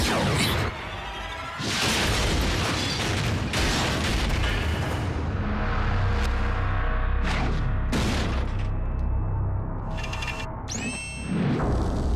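Cartoon explosion blowing up an enemy in a Transformers Prime battle: a run of loud booms and blasts with whooshing debris and mechanical clanks, bursts repeating over several seconds before a final sweeping whoosh.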